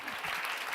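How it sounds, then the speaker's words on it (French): An audience at a conference talk applauding, a brief dense wash of many hands clapping at moderate distance. "Applaudissez-la ça"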